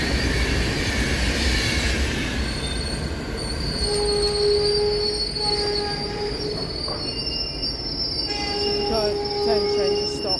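A train braking at Stafford station on the West Coast Main Line gives off sustained high metallic wheel squeals over a steady rolling rumble, with the squealing tones shifting and stuttering as it slows to a halt.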